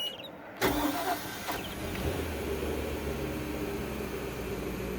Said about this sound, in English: I'm just going to do one more startup so you can hear it